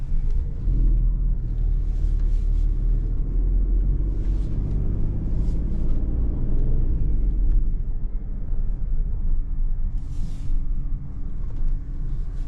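A 2025 Opel Grandland Hybrid 145 cruises smoothly at night, heard from inside as a steady low road and engine rumble with faint scattered rattles and hiss, and no talking.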